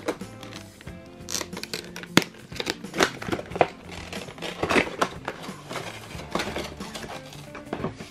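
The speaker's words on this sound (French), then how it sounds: "Donc on va ouvrir cette boîte." A cardboard box holding a 1/12-scale Azone Lil' Fairy doll is opened up close, with scraping, tapping and crinkling handling noises in irregular bursts and no talking.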